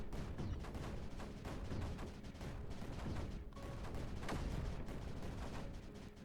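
Cannons in Creeper World 4 fire continuously, a thick, steady barrage of overlapping booms and crackling blasts at moderate level with no pauses.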